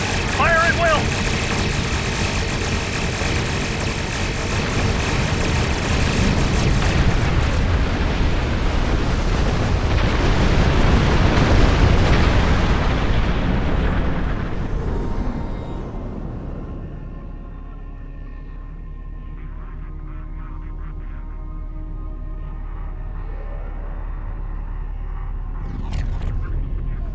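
Starship weapons fire and explosions during a space battle against Klingon attack ships in Star Trek Online, a dense, loud, rumbling barrage for about fifteen seconds that then drops to a low hum with scattered faint blasts.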